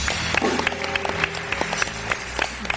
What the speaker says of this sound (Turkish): önce sevgili Meleğe büyük alkış alalım